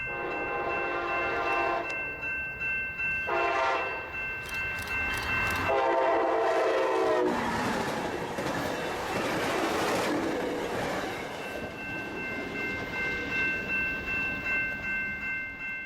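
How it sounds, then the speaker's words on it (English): Northbound passenger train 627 on its way into Carlsbad near San Diego passes close by, sounding its horn in several long, loud blasts while wheels and cars rumble and roar past. "it was northbound train 627's turn to pass by on his way into Carlsbad"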